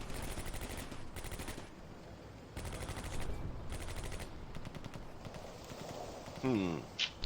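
Gunfire in the WWII strategy game Combat Mission, set in the Stalingrad suburbs: repeated rapid bursts of shots, steady and moderately distant, with a voice talking over them.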